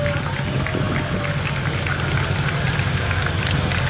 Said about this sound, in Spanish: escuchamos los aplausos de la gente